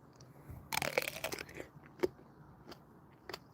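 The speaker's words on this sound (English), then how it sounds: "Flavor Royale pluot. First bite." Biting into a crunchy Flavor Royale pluot indoors: a sharp, crisp crunch at the first bite, then quieter wet chewing crunches, heard very close in a hushed room.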